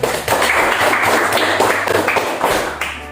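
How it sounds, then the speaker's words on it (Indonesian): A classroom group claps together in a short burst of loud, close, slightly uneven hand claps that fade out near the end. "Ya, aplaus."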